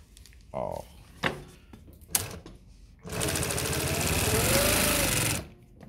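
A Consew 206RB-5 walking-foot sewing machine stitching through thick material, a loud rapid mechanical clatter running for about two and a half seconds. Short clunks of handling come before it.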